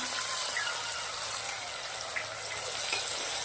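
Large tomato pieces sauté in a pan with a steady, soft sizzle and bubbling hiss, quiet and even throughout with no talking.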